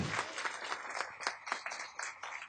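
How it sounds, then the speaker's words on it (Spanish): A church congregation claps in praise, a scattered, uneven run of moderately loud claps with distinct individual hits, fading in and out, with no speech. "Fuertes aplausos al Señor"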